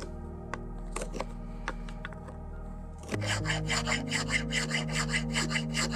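Wood being filed down on a shave horse while carving a spootula, a close scraping rasp that starts as sparse scrapes and then becomes steady, rhythmic strokes.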